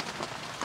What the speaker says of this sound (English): obviously the rain